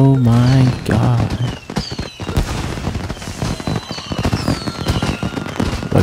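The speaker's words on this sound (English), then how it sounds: "Look at those fireworks." Fireworks crackle and pop in the video game Watch Dogs 2, No Compromise DLC. Scattered bursts and whistling streaks fill the scene after a brief spoken voice at the start.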